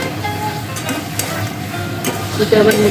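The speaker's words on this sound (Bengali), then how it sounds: "আলু আর পটলগুলো এর মধ্যে দিয়ে দেবো।" Potatoes and pointed gourd fry in a pan for fish curry, giving a steady moderate sizzle with scraping stirs throughout and a louder clatter near the end.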